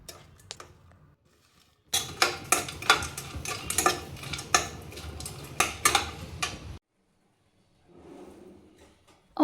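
A crunchy fried snack for an iftar meal is handled up close, giving about five seconds of loud, dense crackling and crisp snapping with no talk, then a faint rustle.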